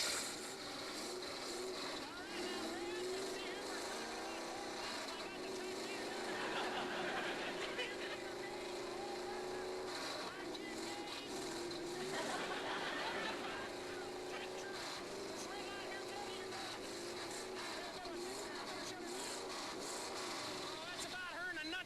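A boat engine starts and settles into a steady, loud running drone that lasts throughout, with a couple of swells in pitch, while voices talk over it.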